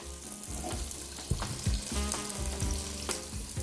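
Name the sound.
carrots frying in oil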